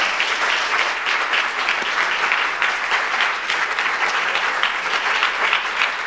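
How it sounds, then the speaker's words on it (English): An audience claps steadily after a science lecture on the origin of life, continuous applause filling a hall for several seconds, with no talk over it. "let me just finish then with another applause."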